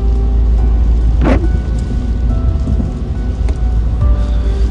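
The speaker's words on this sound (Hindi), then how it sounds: "यहाँ पर भी बारिश ही चल रही है।" Steady rain hissing broadly, as if heard from inside a moving car on a drive between Dover and Germany, with a low rumble underneath and no talking.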